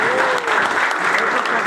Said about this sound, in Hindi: समस्त गोटे ताली मारे